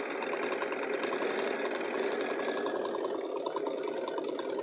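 A Bernina sewing machine stitching through fabric, with a steady, fast mechanical whir and needle chatter running close and even for the whole stretch, no speech.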